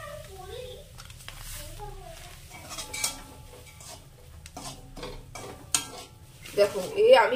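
Semolina roasting in ghee is stirred with a utensil in a pan, light scrapes and clinks with a faint sizzle, while voices talk over it nearby.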